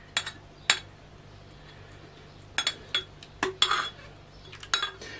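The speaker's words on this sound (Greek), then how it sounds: "Τη χτυπάμε να γίνει σαντιγί." Cream whisked by hand in a bowl into whipped cream, the whisk clinking against the sides in short irregular bursts, close and fairly crisp over a quiet background.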